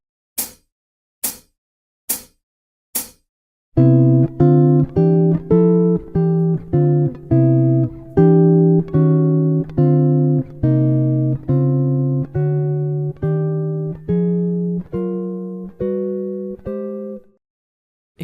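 Four sharp metronome-like clicks count in, then a guitar plays walking chords as a fill-in, a steady stream of plucked chords, one per beat, clear and alone.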